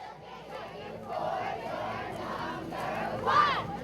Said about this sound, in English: listen to a cheer here